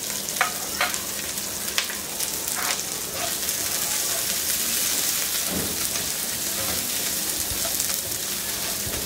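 Onion and garlic fry in oil over high heat with a dense, continuous crackling sizzle like rain on a surface, broken by occasional sharper pops and stirring clatter.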